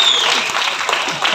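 An audience claps in a brief, dense burst of applause, loud and close, as the clip begins.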